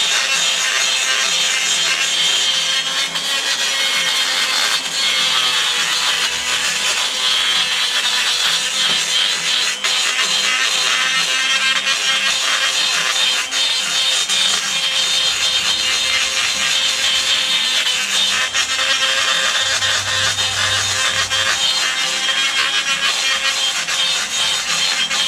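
Cast engine intake ports for a Super 1600 engine are scuffed by hand with an abrasive tool, giving a continuous, close, rasping scrape at an even loudness throughout with no pauses.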